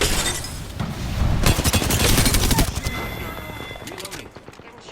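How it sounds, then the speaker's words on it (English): Gunfire in the video game Apex Legends: dense bursts of shots and impacts through the middle of the clip, loud and busy amid game effects, tapering off toward the end. "Getting shot at."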